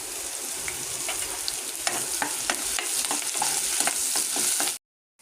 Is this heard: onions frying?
yes